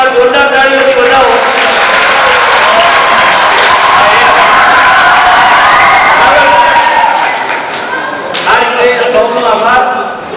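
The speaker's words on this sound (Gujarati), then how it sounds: "એને એકવાર જોરદાર તાળીઓથી વધાવો" Audience at a school science fair in Junagadh claps loudly and continuously, a dense sustained round of applause that thins out near the end as a voice begins over it.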